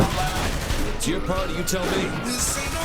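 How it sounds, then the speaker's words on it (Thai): Gunfire in the video game Saints Row The Third, several quick shots under someone talking, with game sounds running throughout. "ยิงหัวหนึ่งดอก"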